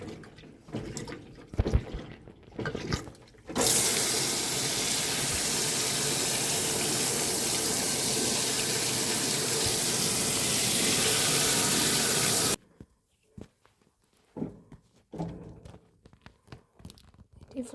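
A 2014 Fisher and Paykel Washsmart 7 kg washing machine filling, a steady rush of water pouring in for several seconds, broad and continuous, with quieter clicks and mechanical sounds before and after.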